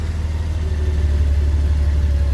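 A 2005 Honda Goldwing GL1800 motorcycle engine idles smoothly and steadily up close, a deep even drone with no misfires and no voices.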